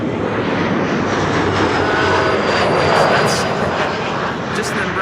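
An Embraer twin jet arriving at Amsterdam Schiphol passes overhead with a steady, loud broadband roar and a thin high whine that swells near the middle, while someone talks over it.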